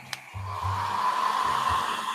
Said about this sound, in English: Sorry about the hair dryer noise.